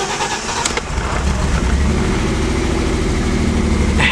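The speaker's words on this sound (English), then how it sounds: "the car's running really rough" An $800 BMW car engine, started after years of sitting, idles roughly with a loud, uneven low rumble that settles into a steady, slightly lumpy drone after the first second.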